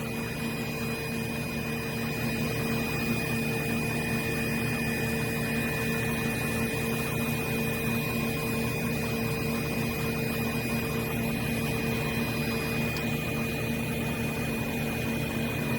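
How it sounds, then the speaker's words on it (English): A LabMaster SP glovebox antechamber's vacuum pump drones steadily while pumping down, a constant mechanical hum with a whining tonal edge that holds level throughout, with no voices. "See it's pumping down."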